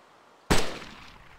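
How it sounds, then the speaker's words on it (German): A single sharp, loud gunshot blast in the video game ArmA 2 after brief quiet, decaying over about a second, with no voices. "Ich höre mehr Schüsse noch."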